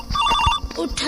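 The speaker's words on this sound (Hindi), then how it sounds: "तेरी कहीं फोन आवे लागत है" A telephone rings in a short repeating electronic trill, close and clear, with voices talking around it in a rural Awadhi-speaking household.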